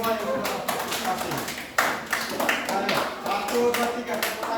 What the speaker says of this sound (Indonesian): sekali lagi kita tepuk tangan untuk semua yang sudah partisipasi